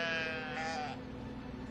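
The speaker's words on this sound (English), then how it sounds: "If you pick up one sheep and you start to go around like this, you have to keep going around." A sheep bleats in the video game Brothers: A Tale of Two Sons, one clear wavering cry lasting about a second, close and fairly loud over a low steady background hum.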